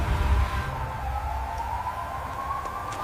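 An ambulance siren wails as a steady, slowly rising electronic tone over a low rumble, loud and continuous throughout, with no voices.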